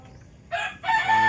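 Indio Gigante chickens in a pen cluck and call in two short, loud bursts close by after a brief quiet moment.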